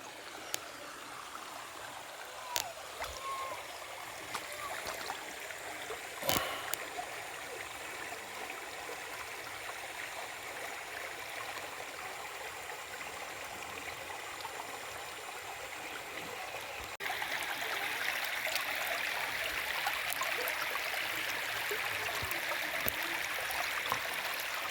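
River water streams and trickles steadily at Hinolugan Falls in Guinobatan, Albay, a continuous broadband rush with a few soft knocks, getting slightly louder and brighter in the last stretch.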